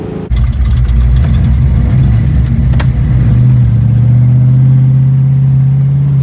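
A Ford engine in a Mustang rumbles loudly up close through its tailpipes, revving and then settling into a steady deep exhaust drone, with no talking.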